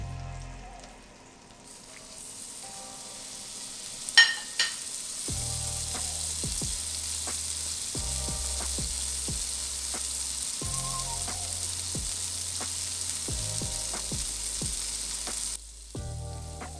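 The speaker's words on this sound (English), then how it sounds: "to cook the foie gras, we need a scorching hot skillet." Foie gras sears in a scorching hot skillet with a steady, fairly quiet sizzle throughout, overlaid by a few sharp pops and faint clinks and a low intermittent hum in the background.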